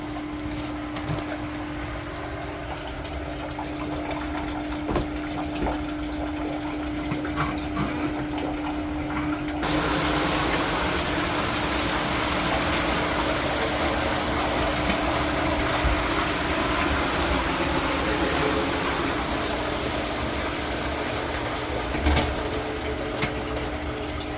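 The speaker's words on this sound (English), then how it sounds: "Hear the air rushing out." Air rushes out of a Compac pool filter drain as it is opened, a steady hiss and gush over a constant pump hum that grows noticeably louder and rougher partway through.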